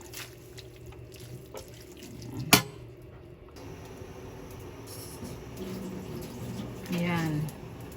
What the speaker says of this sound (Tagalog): Tanggalan na natin ang tubig.